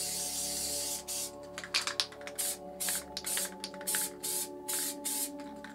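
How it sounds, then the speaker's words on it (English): A Dope 400 Classic spray paint can with a fat cap hisses onto a sheet in a series of short and longer bursts, close up, with a faint steady hum underneath. "when you spray it onto the sheet, it oversprays a lot more"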